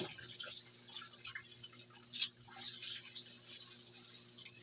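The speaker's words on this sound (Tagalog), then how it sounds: "Kaya kailangan po hugasan natin ang ating noodles ng sopas." Tap water runs as soup noodles are rinsed in a kitchen sink, a faint steady trickle with soft splashes and drips, quiet and close, without talking.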